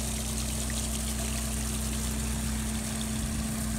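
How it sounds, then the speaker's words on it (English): A 6-inch pump runs at about three-quarter throttle, pushing water through a hose into a dewatering bag. The engine hum and rushing water form a loud, continuous roar with no speech. "a 6-inch pump, running at about 3/4 throttle, if not a little bit more, pumping water into the dewatering bag"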